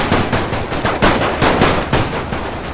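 Dense, loud gunfire with rapid overlapping shots and machine-gun bursts fills a World War I battle in the game Napoleon Total War, heard continuously without speech.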